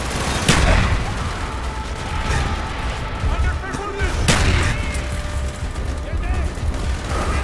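Mortar fire in the Call of Duty Black Ops game: heavy booms and launches land over a continuous din of battle gunfire, with soldiers shouting over the chaos.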